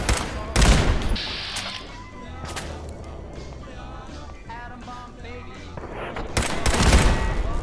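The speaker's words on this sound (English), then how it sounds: "I hear explosions constantly at this point." Explosions and bursts of gunfire in the video game Fallout VR, with several sharp loud blasts near the start and end and busy combat noise in between.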